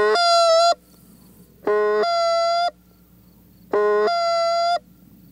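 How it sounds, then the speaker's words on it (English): A Canada goose call blown by a caller gives three evenly spaced, drawn-out two-part honks, each a loud harmonic blast lasting under a second with quiet gaps between, alone with no talking. "So it sounds like ta-hoo, ta-hoo, ta-hoo."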